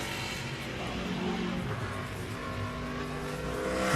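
A NASCAR Sprint Cup race car at Loudon roars through a practice lap, its engine loud and sustained with a slight rise toward the end, the driver hesitant getting onto the throttle.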